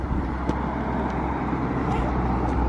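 A car passes on the road nearby, a continuous loud engine and tyre roar with low rumble filling the whole moment, voices faintly present beneath.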